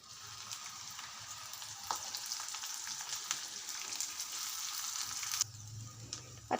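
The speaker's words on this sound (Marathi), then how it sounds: "आता सगळ्यात प्रथम आपण कांदा भाजून घेऊयात।" Chopped onion sizzling and frying in 4 to 5 tablespoons of hot oil in a kadhai, a steady close crackling hiss with occasional stirring clicks, no voices.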